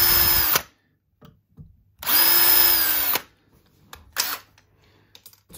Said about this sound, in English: drill pilots first with a 1 millimeter jobby, and then widen it slightly